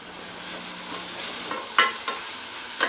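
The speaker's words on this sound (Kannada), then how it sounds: "ಎಲ್ಲ ಚೆನ್ನಾಗಿ ಫ್ರೈ ಮಾಡ್ಕೊಳ್ಳಿ." Grated carrot and chopped coriander are stir-fried in a pan on a medium gas flame. A soft sizzle runs underneath a few sharp scrapes and clinks of the spatula, and nobody speaks.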